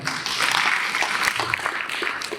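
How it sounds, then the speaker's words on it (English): Audience clapping at a symposium on ICT for persons with disabilities, a steady wash of hands sustained at moderate level for the whole span, with faint voices mixed underneath. "Can you clap for that?"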